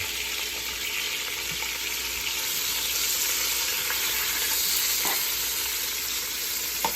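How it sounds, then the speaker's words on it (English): Vegetables and green onion sautéing in a pan, a steady faint sizzle with a constant high hiss and occasional soft stirring clicks, no voices. "And saute them down. Got me some green onion. Mix with that."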